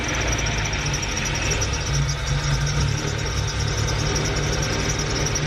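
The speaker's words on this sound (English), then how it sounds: "A little bit of a belt squeak, but it should be fine." A high-compression Honda B18 engine runs steadily at idle with a dense, continuous rumble and faint high whine, close and even throughout, no voices.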